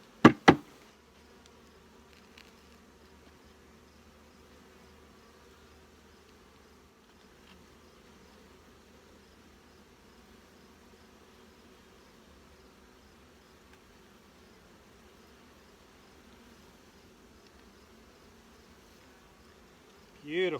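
Honeybees hum softly and steadily from small nucleus hives just out of winter, a faint continuous drone with a few louder handling knocks at the start and end.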